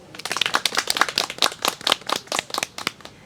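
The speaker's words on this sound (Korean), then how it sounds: "오늘 하루 열의 있게 강의해 주신 윤태경 교수님께 박수 부탁드립니다" Students in a forestry science class at Sangji University clap for their professor, a small group giving a short run of distinct, fairly steady claps close by.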